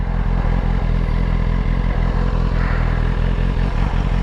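A motorcycle being ridden gives a steady, close, rumbling engine drone with a fast mechanical pulse throughout and no talk.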